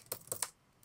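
Three quick computer keyboard keystrokes in a short burst, close and fairly quiet, followed by a faint fourth tap, with no talking.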